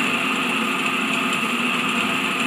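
An electric motor runs under load on a lab test bench, giving a steady, loud, high-pitched whine and hum with no change across the stretch.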